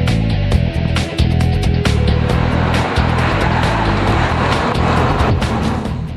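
An all-new BMW 3 Series driving, a loud engine and road roar with shifting pitch, heard alongside background music.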